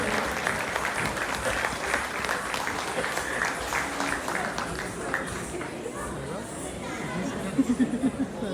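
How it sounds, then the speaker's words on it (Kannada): Audience applause for a troupe of little Bharatanatyam dancers arriving on stage at a Dubai hotel event, a steady wash of clapping with crowd chatter mixed in, thinning toward the end. "ದೊಡ್ಡ ಚಪ್ಪಾಳೆ ನಮ್ಮ ಪುಟಾಣಿಗಳಿಗೆ"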